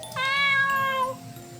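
A cat meows once in the game Flesh, Blood, and Concrete, a clear, drawn-out tonal cry that rises then falls and trails off, close and alone over faint background noise.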